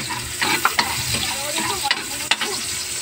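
Garlic sautés in a pan for a Filipino ginisa, a steady close sizzle with a utensil stirring and scraping, a few sharp knocks against the pan.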